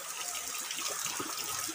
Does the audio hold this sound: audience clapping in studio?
no